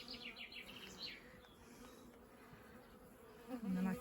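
Swarm of honey bees buzzing steadily around a hive box outdoors, a dense continuous drone with a slightly louder swell near the end.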